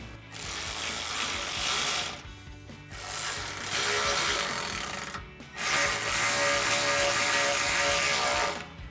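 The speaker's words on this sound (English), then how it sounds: "you can now use your 3/16 hex bit, get the screw started." A 3/16 hex bit drives screws while a running board goes onto a 2019-2024 RAM 1500 truck, a loud steady ratcheting whir in three long bursts broken by short pauses, with no talk.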